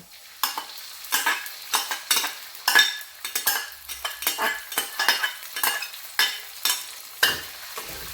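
Oil sizzles and spatters in a pan as fermented black beans fry, with a utensil scraping and stirring in quick, irregular strokes close by.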